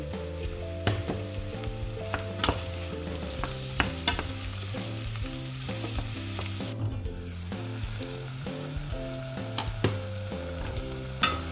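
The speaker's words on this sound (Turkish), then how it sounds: "300 gram mantarımızı ekleyelim ve suyunu salana kadar mantarlarımızı kavuralım" Mushrooms and onion sauté in a pan with a steady close sizzle, punctuated by frequent clicks and scrapes of a utensil stirring, with no talk.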